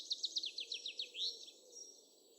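A melodious warbler, a small migratory songbird, pours out a rapid, varied song of repeated high chirping notes with a rising whistled phrase, close and clear over a low background hum, with no talking.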